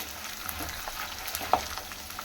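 Dry coconut and garlic frying in oil for a puffed-rice snack, a quiet steady sizzle with faint crackles and one sharper pop, no talking.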